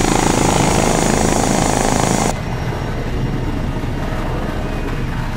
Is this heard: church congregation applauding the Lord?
no